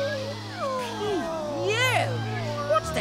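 A cartoon cat gives drawn-out, wavering meows and yowls mixed with voices and a music bed in an animated Codename: Kids Next Door episode.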